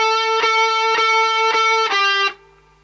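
A distorted electric guitar plays a riff: a sustained, buzzing chord struck four times in an even rhythm with picked and hammered-on notes, then it stops abruptly and leaves a brief quiet tail.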